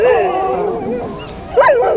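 Dogs kept near polar bears around Churchill yip and whimper in close, whiny bursts. Louder yelps rise near the end, with no clear speech.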